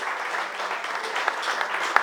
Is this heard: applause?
yes